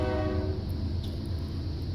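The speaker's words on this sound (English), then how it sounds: "So occasionally we have a train come through." A train rolls past near a century-old farmhouse in Plantersville, Texas, a low steady rumble with a fading horn tone at the start, heard from a distance and fairly faint.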